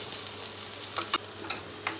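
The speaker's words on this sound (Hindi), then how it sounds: "इसको भी थोड़ा सा सॉटे कर लेंगे।" Vegetables sautéing in a pan for restaurant-style Manchow soup make a soft, steady sizzle up close, broken by a few quick scraping stirs and light clinks, with a low hum underneath and no voices.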